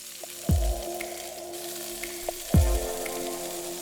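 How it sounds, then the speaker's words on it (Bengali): Chopped onion and capsicum sizzle in hot oil, with two heavy thuds about two seconds apart breaking the soft crackle; no speech. "কুচিয়ে রাখা পেঁয়াজ, কুচিয়ে রাখা ক্যাপসিকাম দিয়ে ভালো করে ভেজে নেব"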